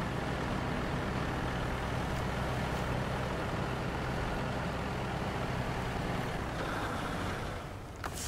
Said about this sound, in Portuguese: Só desligar aqui o motor rapidinho.